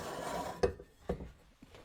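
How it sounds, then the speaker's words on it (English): A Spanish alabaster stone panel being slid carefully into a fixture frame, giving a soft scraping rub with a few brief knocks, close and quiet with no talking. "So the way this is installed is you just simply slide it"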